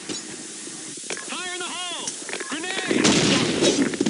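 Gunfire in the shooter game Blackshot: sharp shots and whooshing tonal effects early on, then a loud, sustained noisy burst like a grenade explosion in the last second, with brief voice bits mixed in.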